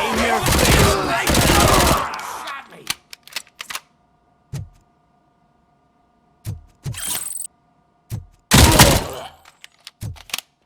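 Gunfire from Robocop: Rogue City, with a dense, loud burst of automatic shots at the start, then scattered single shots and short clusters, plus another heavy burst near the end, all without speech.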